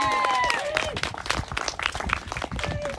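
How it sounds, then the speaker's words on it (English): Wedding guests applaud a couple at a ceremony in an arthouse venue, giving a few seconds of moderate, scattered clapping with a bright tone mixed in and voices beneath it. "With a round of applause,"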